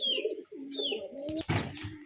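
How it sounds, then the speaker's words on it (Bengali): Indian Lotan pigeons kept in an enclosed room coo nearby in a run of soft, throaty, wavering calls, broken midway by a short rustle of feathers or movement. "তো চাচার প্রথমেই দেখবো লোটন কবুতর দিয়ে শুরু করবো আজকে"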